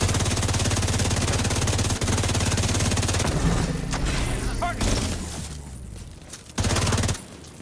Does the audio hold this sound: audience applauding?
no